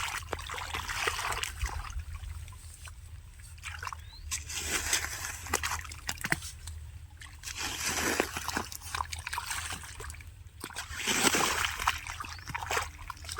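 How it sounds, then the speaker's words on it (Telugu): Irrigation water pours into a mango orchard with a steady, close splashing and trickling rush that swells and fades in a few surges across the whole stretch. "నీళ్ళు ఇప్పుడే పోతున్నాయి"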